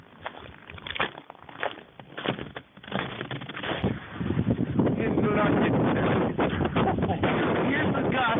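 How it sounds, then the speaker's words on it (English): Blizzard wind gusts around the side of a house in Barrington, Illinois, building from buffeting bursts into a loud, sustained roar against the microphone, with footsteps and a voice earlier. "Here's the gust when you come around the side of the house."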